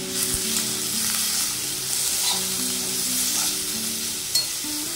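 Spices frying slowly in a pan over a low gas flame with salt and turmeric added, a constant close sizzle with a few faint stirring scrapes and a low steady hum underneath.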